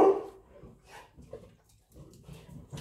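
A dog barks and whimpers outdoors early in the morning, a few short sharp barks with whines between them, fairly close, with faint speech mixed in.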